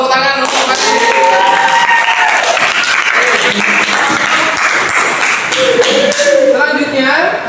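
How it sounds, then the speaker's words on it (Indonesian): Classroom of children clapping for a student during a religious lesson, loud close rapid clapping and tapping sustained throughout, with children's voices calling out over it. "tepuk tangan untuk Faris"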